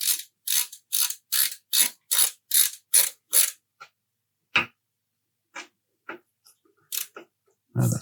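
A hand tool ratchets in a quick run of about ten crisp, evenly spaced clicks while tightening screws on a Prusa Core One 3D printer kit, followed by scattered single clicks and a short pause.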